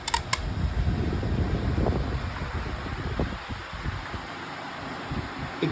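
A Cyclone electric fan running loudly close by, giving a steady broadband whoosh of moving air with a faint hum and no voices.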